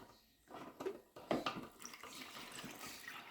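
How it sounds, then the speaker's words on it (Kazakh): Buttermilk water from churned cow's-milk butter is poured off into a container, a faint uneven splashing trickle with small surges and drips, close by and without talk. "Енді осы майдың суын құйып аламыз"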